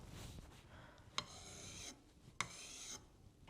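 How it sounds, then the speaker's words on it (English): A garden pruner blade is drawn across a sharpening stone in quiet, gritty rasping strokes, about three swipes, each ending in a small click, close by and without talk. "if you sharpen your pruners regularly"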